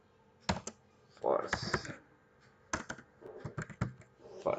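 Keys clatter on a computer keyboard in irregular bursts of quick close clicks and heavier taps, while someone speaks briefly between the strokes.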